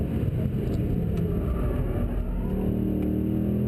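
A 2013 Mercedes-Benz C63 AMG Coupe Black Series V8 with 510 horsepower accelerates hard onto a track straight, a loud, continuous engine roar building steadily close up with no voices.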